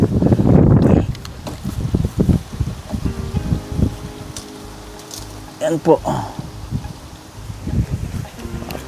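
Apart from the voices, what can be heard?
wind blowing on the camera microphone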